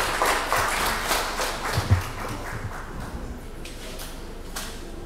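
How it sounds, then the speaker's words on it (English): Attendees at the end of a low-field MRI workshop applauding themselves, a burst of many hands clapping that fades out over a few seconds, indoors and fairly close. "clap for yourselves for being attentive"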